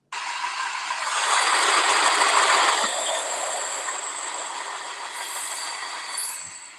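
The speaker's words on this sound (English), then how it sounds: "Y'all's poor train sounds sick." A train rolls past with a broad rushing roar that swells and then fades, light rail squeal and clatter riding on top, heard alone without voices.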